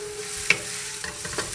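Food sizzling and frying in a hot pan during preparation of a poached salmon and herb rice dish, a steady close hiss with a few small pops and stirring clinks, no voices.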